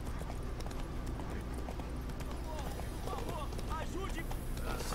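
A horse in The Witcher 3: Wild Hunt gallops with steady clip-clop hoofbeats under game music and a talking voice, quiet and continuous.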